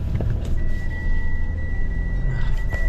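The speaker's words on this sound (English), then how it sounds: "the car just beeps too much" A car's warning beep sounds as a steady high tone that holds for most of the moment over a low rumble of a vehicle and faint outdoor background noise.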